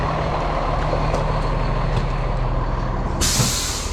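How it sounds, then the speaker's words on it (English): A Freightliner 5130 truck idles with a low, steady engine rumble, then a loud burst of air brake hiss breaks in near the end and carries on to the finish. "My dad's getting the truck out now, so we're going to take the Freightliner 5130."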